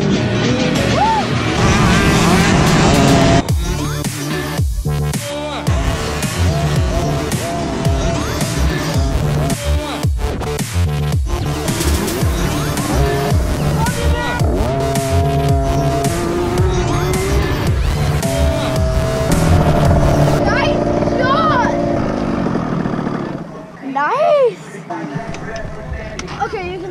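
Dirt bike engines at a motocross race for young riders, loud and continuous throughout, with revving and passing bikes and a brief lull near the end, while people talk over the noise.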